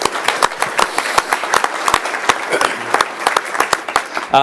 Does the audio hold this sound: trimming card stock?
no